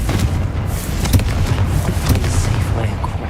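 A Confringo fire spell explosion in Hogwarts Legacy gives a loud, dense, continuous rumble of booms and crackles, close and heavy throughout.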